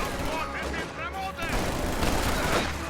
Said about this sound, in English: Shock troops are just gunning them down